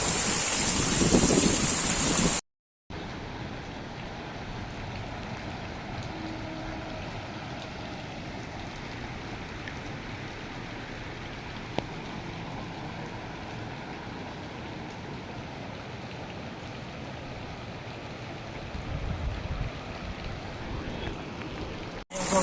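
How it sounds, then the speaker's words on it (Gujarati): Heavy rain pours steadily over Avaniya village in Maliya, a dense continuous wash of hiss broken by a brief dropout near the start, with a few low rumbles and faint sounds under it. "એટલો વરસાદ પડી ગયો છે એકી સાથે"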